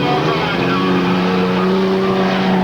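Race cars roar past on a speedway track, a loud, dense engine drone with steady pitched tones that fills the whole moment.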